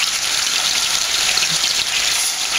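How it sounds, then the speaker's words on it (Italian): Wine and water pour into a pan of rabbit pieces for a stock, a loud, steady close gush of liquid running without a break. "Anche qui un goccettino di vino e un po' di acqua."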